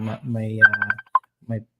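A mother's mobile phone rings nearby, a short electronic melody of bright repeated tones, with a person talking over the start and again at the end.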